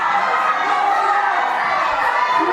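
Crowd at a live UK wrestling show voicing disapproval, a loud sustained mass of jeers and chatter with children's shouts mixed in, filling the hall throughout.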